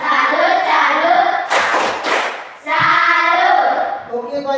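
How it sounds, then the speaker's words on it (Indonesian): Schoolchildren in a classroom perform a rhythmic salute clap, voices chanting in unison with sharp bursts of clapping in the middle, near and loud. "Tepuk salut untuk Kansa"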